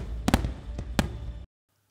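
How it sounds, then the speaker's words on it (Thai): Celebratory fireworks at a royal commemorative event in Thailand, a few sharp loud bursts over a continuous rumbling crackle, then cutting off to near silence. "ก่อนจะปิดท้ายด้วยการจุดพลุเฉลิมพระเกียรติ7ชุด"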